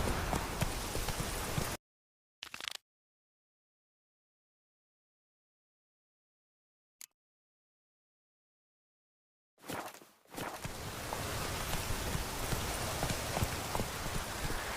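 Horse hooves gallop in The Witcher 3, a steady rapid drumming that fills the opening seconds, drops out into near silence, then returns loud and continuous for the final stretch.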